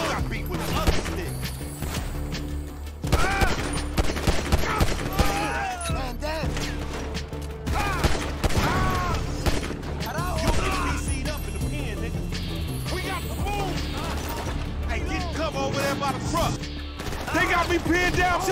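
Bursts of gunfire crack repeatedly through a gang gunfight with bikers in GTA 5, loud and dense over a game soundtrack, with characters shouting and talking throughout.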